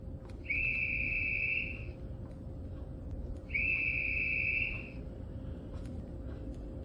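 A train guard's whistle is blown twice at a station: two clear, steady, high blasts of about a second each, separated by a pause, over a low background rumble.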